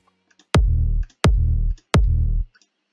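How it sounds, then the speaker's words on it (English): Three deep, booming kick drum hits, evenly spaced, each with a sharp attack and a long low tail, heard alone. "I took a kick sample that has a nice and powerful low end"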